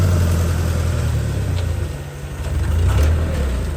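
An old flathead Hyster forklift engine runs steadily in a loud, continuous low rumble close by, with a slight dip and recovery in the middle and no talk over it.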